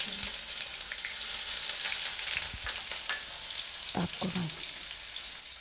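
Chopped onions hitting a hot pan for baingan bharta, sizzling in a steady, fairly loud hiss with a few brief clinks of a utensil near the end.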